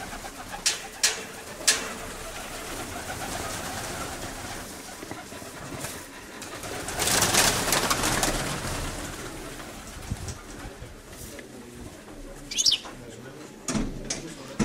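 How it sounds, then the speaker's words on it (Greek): Pigeons in Kozani cooing softly nearby, with a burst of wing flapping as birds take off and a few short calls, while people talk in the background throughout. "Έρχεται ένα περιστέρι, δεν ξέρω αν είναι και δικό σου."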